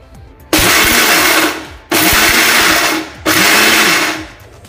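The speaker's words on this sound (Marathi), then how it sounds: "हे काजू पहिल्यांदा मिक्सरमधून वाटून घेऊया" Mixer grinder whirring through cashews in three loud pulsed bursts, each a sharp high whine lasting about a second with brief pauses between, close and alone.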